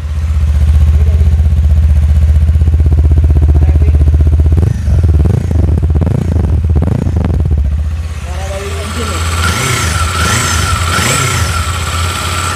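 A new Kawasaki Eliminator twin-cylinder motorcycle engine idles with a low, steady throb, then revs several times in quick bursts before settling back into a rumbling idle.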